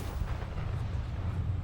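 A torpedo launches from a spaceship in the video game Starfield with a low, rumbling boom that rolls on steadily through the brief moment, dense and heavy with no clear attack, heard alone.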